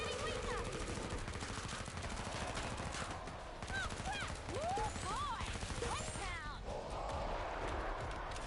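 An MP5 submachine gun fires in bursts in the video game Killing Floor 2, with dense, rapid shots and other game noises over a busy in-game background.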